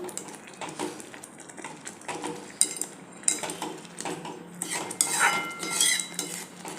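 Cooked rice being mashed with a spoon in a metal pot while making traditional jaggery rice kheer, with repeated scraping, clinks and knocks of the utensil against the pot, close and irregular, with no talk.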